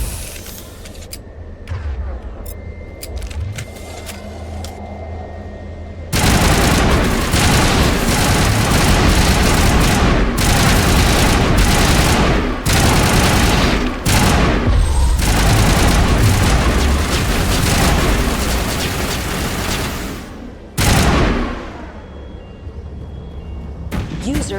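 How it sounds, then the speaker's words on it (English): Sledge rounds fired in the game Mass Effect 1 Legendary Edition on Noveria: a sudden run of loud, heavy repeated gun blasts with booming impacts, after quieter ambience, with brief gaps and a final burst, a voice heard faintly under it. "let's see what sledge rounds do"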